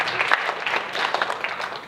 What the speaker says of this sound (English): Can we have a round of applause for Andrea?